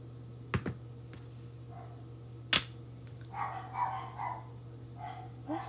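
A dog gives a few short, separated barks, moderately near over a steady low electrical hum, with some clicks and faint scuffing between them.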